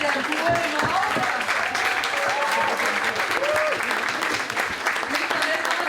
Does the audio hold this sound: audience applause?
yes